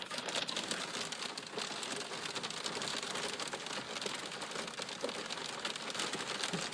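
Heavy hail and rain pound a car windshield during a severe storm, a dense continuous loud drumming with sharp individual impacts throughout.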